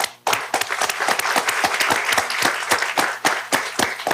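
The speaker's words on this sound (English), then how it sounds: "so a round of applause for him." A room full of people claps at a school district board meeting, steady close applause with distinct sharp hand claps throughout, fairly loud and without talk.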